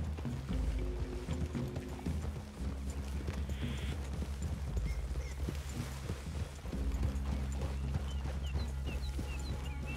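Horse hooves clip-clop at a steady trotting rhythm in Red Dead Redemption 2, close and continuous over a low rumbling game background, with no speech.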